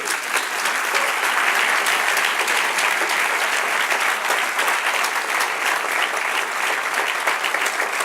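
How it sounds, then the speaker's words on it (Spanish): A church congregation applauds during a pastor's sermon, a dense, sustained wash of many hands clapping at once, loud and even throughout with no talk over it. "Dale otro aplauso a Dios."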